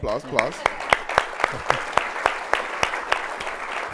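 A keynote lunch audience claps in welcome for the Starbase General Manager, with a run of sharp, evenly spaced hand claps ringing out near and clear over soft room murmur, briefly under a voice at the start.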